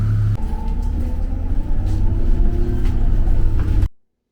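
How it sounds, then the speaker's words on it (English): An articulated 302 rapid transit bus in Calgary rumbles steadily from the inside, a low engine drone with a brief higher whine near the start, continuous and close, before cutting to silence near the end. "It's an articulate bus"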